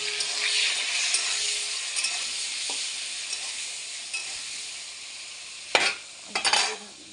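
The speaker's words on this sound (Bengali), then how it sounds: "এটাতে আমি টমেটো কুচু, ক্যাপসিকাম কুচু, গোটা লঙ্কা সব দিয়ে দেবো একসাথে। দিয়ে দেওয়ার পরে ভালো করে ভাজবো।" Chopped tomato, capsicum and whole green chillies frying together in a pan on low heat, a loud, dense hiss that slowly eases, with a few light spatula taps and two sharp scrapes near the end.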